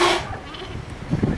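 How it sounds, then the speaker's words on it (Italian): Sheep bleat in an animated folk tale scene, with a short bleat opening the clip and fainter animal calls following close by, and no speech over them. "Su, piccole pecore, andate, o Peter finirà nei guai."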